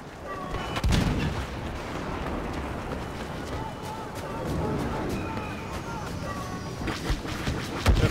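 Explosive shots and gunfire in Star Wars Battlefront's Walker Assault on Outpost Beta, repeated booms and bursts running steadily through the battle, with heavier volleys near the start and end and a voice talking over the noise.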